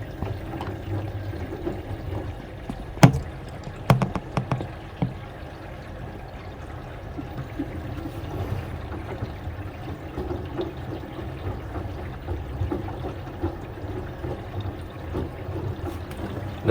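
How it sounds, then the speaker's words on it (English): LG FV1285S4W 8.5kg front load washing machine with direct drive taking in water, a steady rushing trickle and pour running throughout, with a few brief knocks early on. "So right now the water is filling up"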